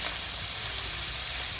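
Pechay greens dropped into a pan of sautéed tomato and onion, giving a steady, loud sizzle and steamy hiss that runs unbroken throughout.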